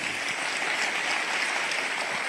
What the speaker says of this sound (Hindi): जोरदार तालियों की गड़गड़ाहट